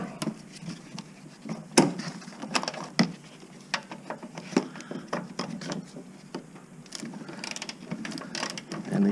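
A ratchet loosens the front strut bolts on a 2005-2012 third-generation Toyota Rav4, with bursts of quick clicking and sharp metallic clacks that come and go at close range. Nobody speaks.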